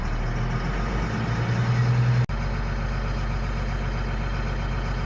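An FMTV truck engine idles steadily, heard from inside a soundproofed cab as a low, even drone that drops slightly in pitch partway through, with a brief click.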